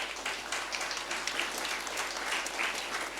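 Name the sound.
church congregation applauding the praise team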